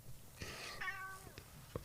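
A cat gives a faint, drawn-out meow that rises and bends in pitch, set against a quiet room with a few soft knocks.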